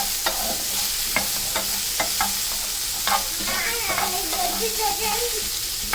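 Chutney ingredients being sautéed in a pan with a small piece of tamarind added: a continuous bright sizzle with periodic scraping strokes of a spatula stirring the mixture, and faint voices in the background.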